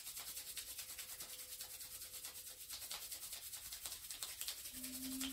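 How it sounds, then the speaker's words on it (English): Two hands rub together vigorously in a quick, steady back-and-forth friction sound, close and fairly quiet, lasting a few seconds with no talking. "bring the hands together and rub them vigorously until they become undeniably warm and maybe even hot"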